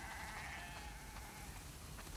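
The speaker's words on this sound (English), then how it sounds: "We definitely have way too many sheep." Sheep bleating in the video game The Last of Us Part II, a faint, wavering animal cry from a flock heard at a distance, continuous over the short stretch with no talk.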